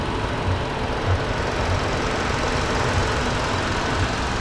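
A 2018 Ford Explorer Police Interceptor with a 3.7-liter high-performance V6 runs steadily with its hood open, a close, even engine drone with a faint rhythmic ticking pulse and no talking.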